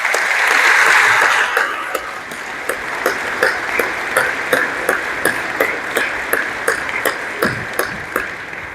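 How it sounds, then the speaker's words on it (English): Applause at an end-of-year school awards ceremony for honorees, a steady round of clapping from a crowd that swells at the start and then settles into sharper, spaced claps through to the end. "Let's give them a round of applause."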